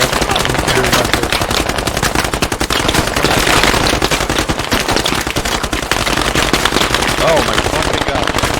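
Dense, loud gunfire rattles at close range in the video game Squad, with rapid automatic bursts crowding together nonstop and a voice talking underneath.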